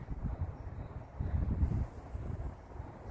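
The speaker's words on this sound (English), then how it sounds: "It's quite windy today" Low, gusty wind rumble buffets the microphone at a hilltop fort overlooking Chatham and the River Medway, rising and falling in uneven bursts with no other clear sounds.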